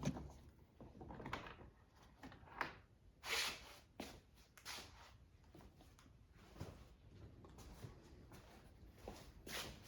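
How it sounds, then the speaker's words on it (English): Plastic front door trim panel being pried and pulled off a 2011-2020 Toyota Sienna, giving scattered clip pops, knocks and scraping rustles spread unevenly throughout, fairly close, with no talking. "now you can take the door panel off"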